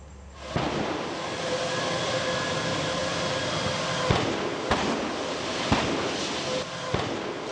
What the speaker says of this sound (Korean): 공장에 쌓여있던 폐가스통이 계속 터지고